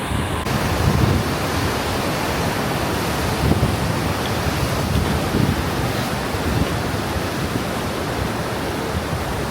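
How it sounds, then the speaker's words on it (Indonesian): Strong wind at Tilicho Lake on the Annapurna Circuit, a high, cold mountain setting, roaring steadily and loudly into the microphone as continuous broadband buffeting for the whole stretch, with no speech. "apalagi angin kenceng kan."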